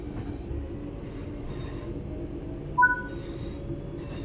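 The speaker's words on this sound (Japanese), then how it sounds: "ホレック製の GTO 素子の VVVF インバーターの事例音を奏でながら加速していきます" A train in Train Sim World 4 hums steadily, a low rumble with a faint electronic whine from its GTO VVVF inverter as it accelerates toward 25 km/h.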